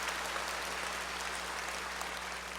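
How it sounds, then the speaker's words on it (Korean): Congregation at a church worship service applauding to welcome a visiting guest, a steady even wash of clapping that sounds somewhat distant and soft, with a low hum underneath and no talk. "여러분 큰 박수로 환영하시고 감사 발표하십시오."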